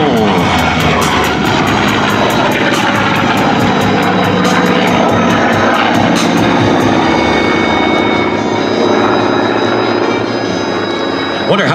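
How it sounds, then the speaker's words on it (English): A P-51 Mustang's Rolls-Royce Merlin engine roars loudly and continuously during an air show flight demonstration, the piston drone filling the whole stretch with slight swells as the plane maneuvers overhead. "Listen to the sound of the Rolls Royce Merlin engine."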